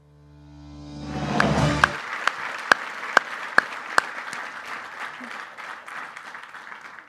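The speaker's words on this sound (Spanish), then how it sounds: "De pie, un aplauso de pie, ¿no?" Standing ovation from the audience at a tribute ceremony honoring Colombian footballer Andrés Escobar, a loud sustained wash of clapping that swells in after a brief lead-in and carries on steadily, with a few sharp individual claps standing out.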